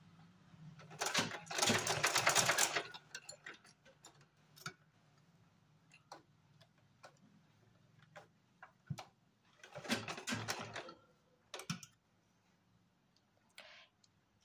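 A sewing machine stitching through gathered pleats on a small summer dress for a Laddu Gopal idol, heard as two loud rapid runs of needle clatter with scattered ticks and clicks between them, close and without talk.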